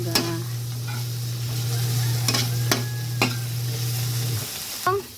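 Ampalaya (bitter gourd) being stirred in a pan, a steady sizzle under a low hum with several sharp scraping clacks of the utensil against the pan and a final clatter near the end.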